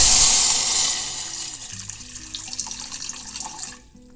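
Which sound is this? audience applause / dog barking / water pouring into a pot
water pouring into a pot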